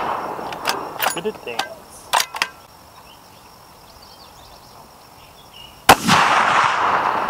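Sharp reports from a .50 BMG rifle on a big bore shooting day, with several cracks near the start striking a steel target, then one loud close blast later followed by lingering noise, with brief talk mixed in.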